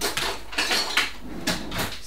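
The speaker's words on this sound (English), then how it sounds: "Gently stir it, don't stir it too much." A Tom Collins cocktail is stirred with a swizzle stick, producing a series of light clinks and rattles of ice against the glass, close and fairly quiet, spaced irregularly over two seconds.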